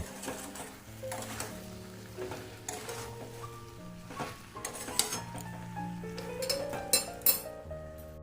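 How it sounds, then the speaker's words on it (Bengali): A spoon stirs jaggery into a pot of jujube pickle, giving repeated light metallic clinks and scrapes at close range over steady background music. "ভালো করে নাড়াচাড়া করে আমি ফুলের সাথে গুড়টা মিশিয়ে নেব"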